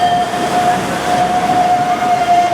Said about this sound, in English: I probably didn't pick the best place to have a rant on a platform, on a tram platform.